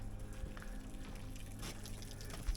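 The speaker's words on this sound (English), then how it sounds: "And here we have a fountain. Beautiful. Natural water coming straight off the mountain." Water trickling from a natural mountain-fed fountain in the Peligna valley of Italy, a low flow heard as a quiet, steady splash and gurgle, with no voices and a small bump near the end.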